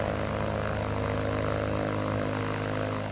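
A Cirrus SR22 propeller airplane on the ground at Mackinac Island after landing hums with a steady, close engine and propeller drone that holds throughout and eases slightly near the end.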